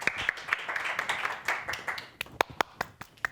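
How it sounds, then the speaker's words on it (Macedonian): Scattered hand clapping from a studio audience on a Macedonian music show, sparse and uneven at first, then a few sharp, distinct claps standing out near the end; fairly faint and without speech. "Аплауз."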